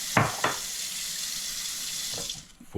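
Tap water runs steadily into a pot for cooking geerah rice, a continuous close hiss with a couple of splashy bursts at the start and a brief clatter near the end.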